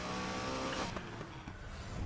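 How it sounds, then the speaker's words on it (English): A 3.8-liter McLaren V8 engine in Need for Speed Heat drones and revs steadily, loud and close, with a slight shift in pitch partway through and no voices. "McLaren V8 sound very nice."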